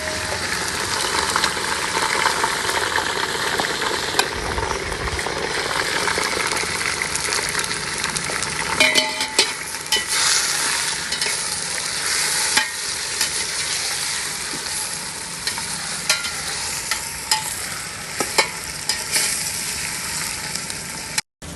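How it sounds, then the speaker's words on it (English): Mutton sautéed with masala in a pan gives a loud, steady sizzle throughout, broken by occasional clicks and scrapes of stirring, with no talking. "We are going to saute this mutton for at least 10 to 15 minutes."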